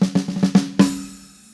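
Single-drag rudiment on drums in a reggae groove, five or six quick flammed snare strokes in an even rhythm ending on a stronger accented hit that rings and fades, played close with no voices.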